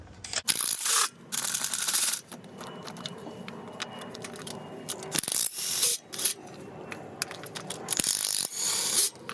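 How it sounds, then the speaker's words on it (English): A socket scrapes against the spark plug tube wall inside the 5.7L or 6.4L engine of a Dodge Charger or Challenger, a close, gritty rasp coming in irregular bursts with brief pauses and faint metallic clinks. "that rubbing is just the socket rubbing on the spark plug tube wall"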